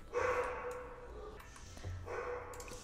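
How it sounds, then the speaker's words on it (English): A loud dog barks in a home hallway, a few bursts spread across the moment with a moderately close, echoing quality and no talk over it. "Very loud dog."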